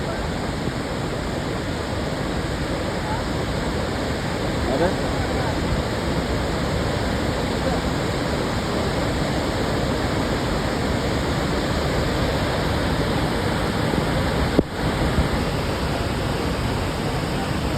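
Water rushes through an opened gate of Minipe Dam, a loud, unbroken roar of torrent filling the scene, with a brief voice near the end.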